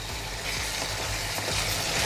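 A thick garlic curry, poondu kulambu, bubbles and sizzles steadily in a pan, a continuous close crackling hiss with no talking.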